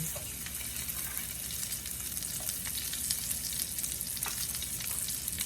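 Three to four sliced garlic cloves fry in a skillet for a BLT pasta, giving a steady, dense, close sizzle and crackle that holds evenly throughout.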